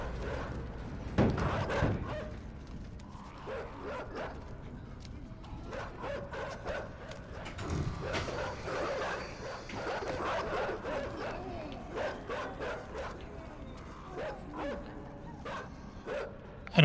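Dogs in the video game Inside bark and yip in scattered bursts, some near and sharp, others fainter, mixed with rustling and thumps over about seventeen seconds.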